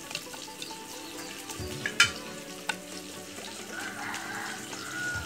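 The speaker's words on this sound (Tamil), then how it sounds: "இது வெங்காயம், வரமிளகா, சித்தல் மிளகாயும் போடுவோம். கிளறி விடுவோம்." Onion, dried red chillies and green chillies sizzling in a pan for Sri Lankan-style country chicken rasam, a soft steady fry with scraping stirs and a sharp clink of the utensil.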